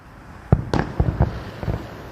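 Independence Day fireworks bursting in a quick run of sharp cracks and booms, several close together over a couple of seconds, loud and near with faint background between.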